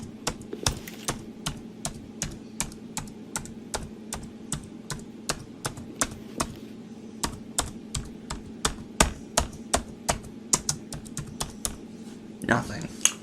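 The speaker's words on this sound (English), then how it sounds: "I wonder what happens if I just press every button on the keyboard" Rapid keyboard key presses in The Stanley Parable, a long run of sharp separate clicks in irregular rhythm, fairly close, over a steady low hum.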